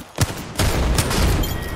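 Gunfire in the video game Apex Legends: a sharp shot, then a second blast that runs into a sustained burst of rapid firing.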